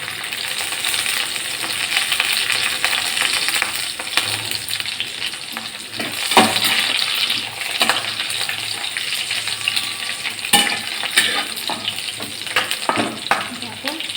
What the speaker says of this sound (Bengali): কাঁচা লঙ্কাটা হালকা একটু ভেজে নেব।